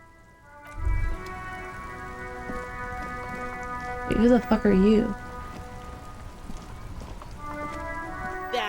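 Steady rain falls in a video game, a continuous soft hiss that runs under a man's speech and other brief game sounds.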